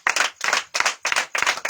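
A church congregation in Yamoussoukro claps together during praise and worship, with loud, steady, rhythmic rounds of hand claps in an even beat that continue without pause.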